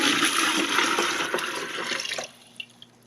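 Two quarts of cold refrigerated water pour in a loud, steady rush into a 2-gallon fermenter for about two seconds, then stop abruptly, leaving a faint drip or two.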